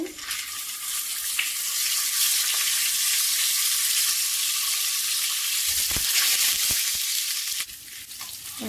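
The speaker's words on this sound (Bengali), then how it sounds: "ডিম ভেজে নেব" Eggs fry in hot oil with a little turmeric and salt, making a loud, steady hissing sizzle broken by a few knocks of the spatula, then easing off.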